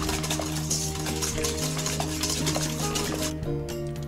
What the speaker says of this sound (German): In eine große Schüssel gebe ich die vier Eier zusammen mit dem Quark und anschließend wird alles gut miteinander vermischt.